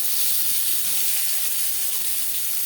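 Chopped onion and slit green chillies hit hot oil in a kadai where fish was just fried, giving a loud, steady, close sizzle and hiss that runs unbroken with no talking.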